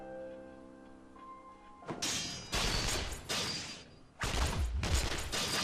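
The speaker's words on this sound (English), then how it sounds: "Is that gunfire I hear?" Gunfire in the fighting game Persona 4 Arena Ultimax: after a quiet tonal hum, loud dense bursts of shots crackle in two sustained volleys, the second rumbling with low booms.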